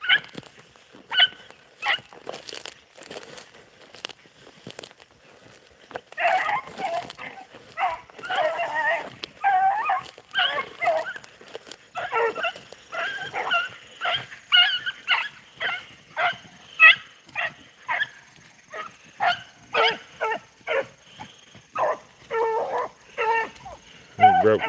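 Beagle-type hounds baying on a rabbit chase in the field, a rhythmic string of repeated bays and yips that grows denser and louder midway, some voices overlapping, heard fairly close and continuing throughout.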